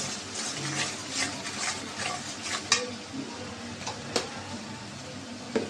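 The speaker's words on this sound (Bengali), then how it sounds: "মশলাটা এখন কষাই নেব" Spice paste with garlic paste and salt being stirred and sautéed in a pan, with soft sizzling under repeated spoon scrapes and a few sharp metallic knocks against the pan.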